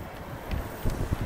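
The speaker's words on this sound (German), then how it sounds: "jetzt ist gerade echt windig" Gusty wind buffets the microphone outdoors at a city fair, a rough low rumble with a few stronger bumps over about a second.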